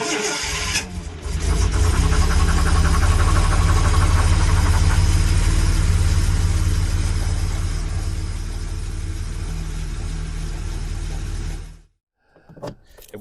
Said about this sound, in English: I just want to give you a listen to some of the nasty sounds coming from the engine.